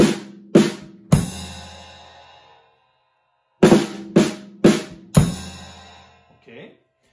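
Drum hits ring out: a few sharp strikes with cymbal wash decaying, a pause, then four quick hits ending on a sustained ride cymbal and kick.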